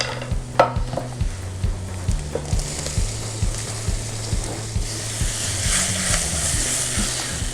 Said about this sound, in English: Saute this up.